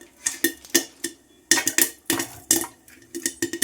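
Popcorn kernels popping inside a covered pot, giving sharp irregular pops and clinks against the metal and lid, coming in quick bursts with short gaps, close and fairly loud.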